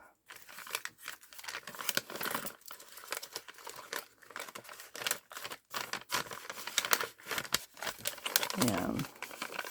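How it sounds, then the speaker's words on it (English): Craft items such as bag toppers rustle and crinkle as they are slipped into a small envelope, with papery crackles and taps throughout, while a person talks over the handling. "I'm just going to put it in this little envelope."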